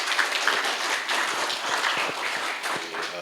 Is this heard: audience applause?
yes